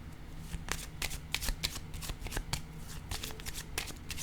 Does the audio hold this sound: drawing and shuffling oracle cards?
yes